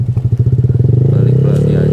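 Motorcycle exhaust with a CVT transmission, a steady close pulsing idle that rises into a smoother, faster drone, with voices talking over it.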